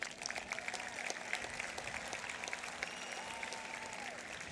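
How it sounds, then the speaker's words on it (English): Graduating class of 2021 at John Burroughs High School applauding themselves, a moderate, scattered clapping with distinct individual claps over a faint background hum and some crowd noise. "Give yourself a clap."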